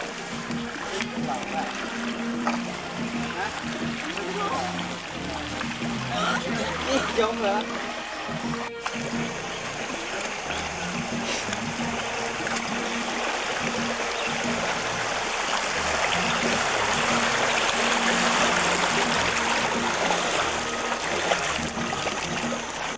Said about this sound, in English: we are starting our raft trip down the Pai River